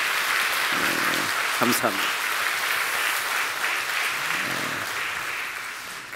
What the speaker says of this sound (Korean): 우리 한번 힘차게 한번 박수해 주시겠습니까?